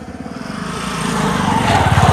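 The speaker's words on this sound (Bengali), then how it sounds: "আর একটি মোটর সাইকেল আসছে," A motorcycle engine buzzes steadily and grows louder as it draws closer, its drone rising in pitch toward the end.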